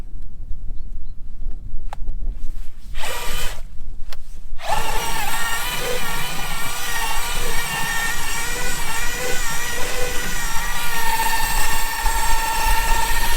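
A power drill with its hammer action switched off runs steadily and loudly for most of the stretch, drilling into hard homemade fertiliser material, after a few short bursts at the start.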